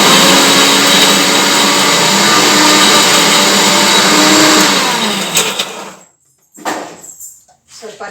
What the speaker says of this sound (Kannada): ಇವಾಗ ಗ್ರೈಂಡ್ ಮಾಡ್ಕೊತೀನಿ.